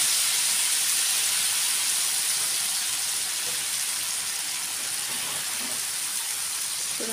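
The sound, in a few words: rava dosa batter poured onto a hot pan, sizzling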